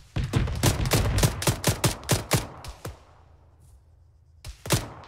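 Gunfire in Arma 3 cracks out as a rapid burst of about a dozen sharp shots over three seconds, then a short pause before two or three more shots, close and loud, with no talking.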